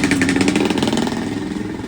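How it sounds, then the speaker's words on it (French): A scooter engine idles and revs steadily up close while it carries heavy suitcases on a street in Amed, Bali. The engine throbs throughout with a slightly rising, buzzing tone, and no voices are heard. "Donc là, ils nous prennent les valises sur le scooter."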